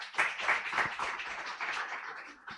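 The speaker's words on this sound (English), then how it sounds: "please give another round of applause" A brief burst of audience clapping at an international symposium on sustainable urban development, a small crowd's hand claps fairly close and fading out after a couple of seconds.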